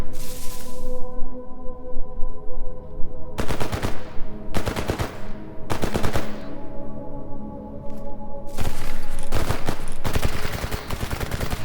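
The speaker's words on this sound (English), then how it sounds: "While they're shooting at him, it's a good time for me to move up." Automatic gunfire in the video game S.T.A.L.K.E.R. G.A.M.M.A., with several loud bursts of rapid shots separated by short pauses over a steady background drone.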